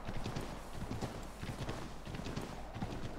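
A horse gallops in the Assassin's Creed 3 video game, a steady, rapid drumming of hooves over a noisy outdoor game background, continuous throughout.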